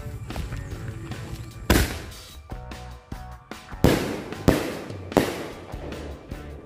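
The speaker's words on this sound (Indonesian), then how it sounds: "itu dia hasilnya dari mercon bola launcher" Ball-launcher firecrackers (mercon bola) set off outdoors, giving several sharp, loud bursts at irregular intervals over crackling debris and lingering rumble, with no talking.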